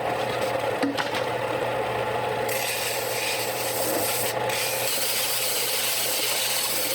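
Rough sides of a wooden mail storage box being sanded by hand, a steady close scratchy rubbing that continues without pause and with no voices.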